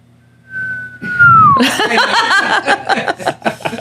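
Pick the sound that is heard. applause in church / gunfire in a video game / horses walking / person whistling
person whistling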